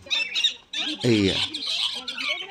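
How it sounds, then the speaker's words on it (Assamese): A large-beaked bird at Bengal Safari zoo in Siliguri gives loud, harsh squawks in bursts across the clip, with a strong low-pitched call in the middle, while a person talks nearby. "এইটো এটা বহুত ডাঙৰ চৰাই"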